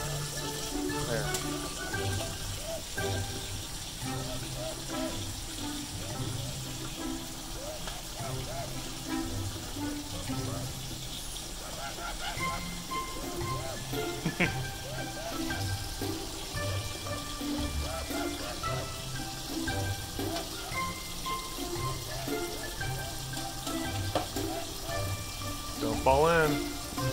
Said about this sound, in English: Would you freak out if I turned the sprayer on?